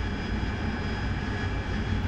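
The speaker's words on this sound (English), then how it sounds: "I'll get the aircraft up in the air and I'll join you guys en route to the range" Steady, loud jet engine roar of an AV-8B Harrier taking off in the DCS flight simulator, a continuous broadband rumble with no breaks and no talking.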